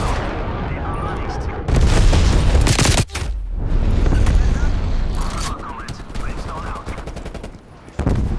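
Napalm strike explosions in Call of Duty: Black Ops Cold War, loud roaring bursts and heavy booms layered with rapid gunfire, a brief drop near the middle before the blasts surge back, with game voices talking over the din.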